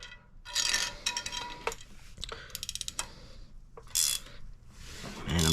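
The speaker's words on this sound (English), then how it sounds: "I'm going to tighten this nut down. Hopefully it pulls it in nice and straight, doesn't bend it up. Got a ratcheting wrench here." A ratcheting wrench tightens a nut on a cylinder head during installation of hollow alignment dowels, giving short bursts of quick metallic clicks separated by pauses, close and fairly crisp against a quiet background.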